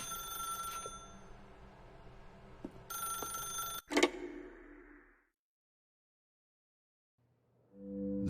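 A telephone rings in The Stanley Parable: Ultra Deluxe, two bright electronic trills with a gap between, followed by a loud clunk and then silence before a low hum returns.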